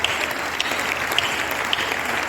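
A church convention congregation applauds its pastors, a brief burst of dense, continuous clapping at moderate loudness with no pause.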